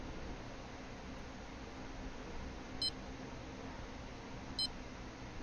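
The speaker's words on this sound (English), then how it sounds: "Okay, one of these beeped." Two short electronic beeps from a bite alarm in the fishing game Fishing Planet, spaced about two seconds apart over a steady hiss of ambient noise at a bottom-fishing spot on White Moose Lake.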